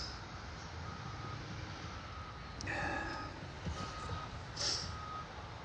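A reversing truck sounds a slow series of faint, evenly spaced beeps in the distance over a low outdoor rumble, with a brief hiss of air brakes midway.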